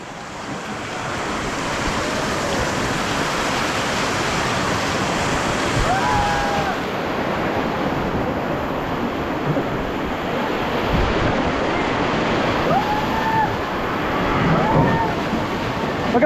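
River rapids roar in a steady, loud rush of churning water during a rafting run, with wind buffeting the microphone and faint voices now and then.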